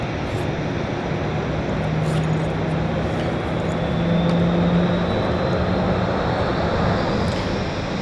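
Southwest Airlines Boeing 737-700 at Dallas Love Field passes beneath with a steady, loud jet engine roar, a faint rising whine running through the broad rumble throughout.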